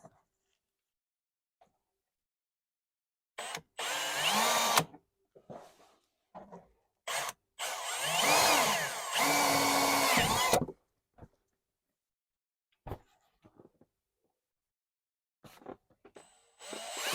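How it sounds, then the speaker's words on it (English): Bursts of a power drill boring holes in Can-Am X3 panels for push pins, a few short loud whines separated by silences, with brief handling noises and occasional talk between them. "We'll drill those out and put the push pins in it."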